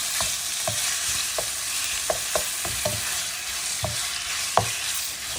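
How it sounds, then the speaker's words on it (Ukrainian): Continuous sizzling of chicken fillet frying in a pan, punctuated by repeated scraping clicks of a utensil stirring, no talking. "Куряче філе смажиться швидко"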